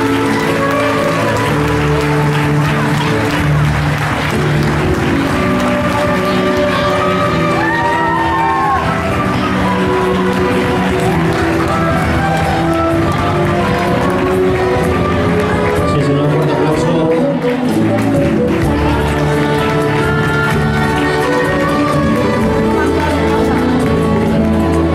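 An audience at a festival coronation ceremony for a queen and her ladies in El Picazo claps and cheers loudly for the whole stretch, mixed with voices and music in a large, busy space.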